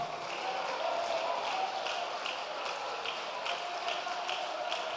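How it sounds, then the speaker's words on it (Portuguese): Church congregation applauding steadily at a moderate distance, a soft continuous patter of many hands with a faint tonal hum underneath and no clear speech. "pode aplaudir Jesus e dar glória?"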